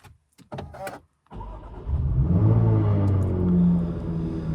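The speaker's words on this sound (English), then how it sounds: "we'll start up the supercharged V6 using the start-stop button down there" Jaguar F-Type 400 Sport supercharged V6 fired up by its start-stop button: a brief clicks and whirring, a pause, then the engine catches and settles into a loud, steady, deep idle with a slight flare.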